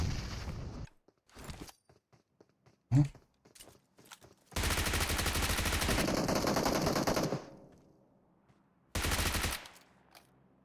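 PUBG Mobile gunfire comes in short separate shots, then a long sustained automatic burst and one more burst near the end, with quiet gaps and occasional small clicks between.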